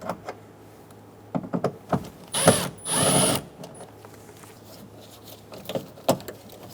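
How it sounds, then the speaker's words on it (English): A power drill backs Phillips head screws out of the door of a 2003-2007 Honda Accord. It gives two short whirring bursts between faint clicks and handling noises, with no talking. "Remove the Phillips head screws."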